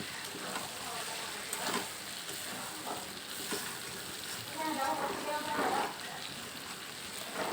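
Meat sautés in a pan during Bengali-style kosha cooking, giving a continuous crackling sizzle with soft surges, fairly quiet and close, with occasional stir scrapes.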